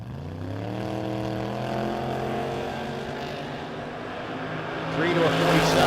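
A 1973 Camaro drag racing at a No Box 660 Shootout event roars as its engine climbs steadily in pitch, growing louder near the end, with a voice talking over it.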